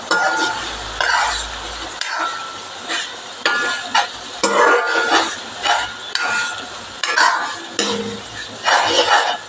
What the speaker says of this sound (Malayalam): അതിൻ്റെ ഒരു കുത്തൊക്കെ ഉണ്ടല്ലോ, അതൊക്കെ പോണ വരെ ഒന്ന് ഇളക്കി കൊടുക്കുക